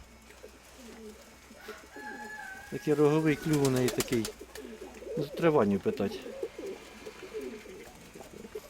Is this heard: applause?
no